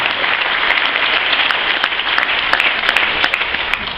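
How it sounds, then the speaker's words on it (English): An audience applauding at a Kyani Super Saturday event, dense steady clapping from a large crowd lasting throughout, loud and close with no voices. "I think we should clap on that one, right?"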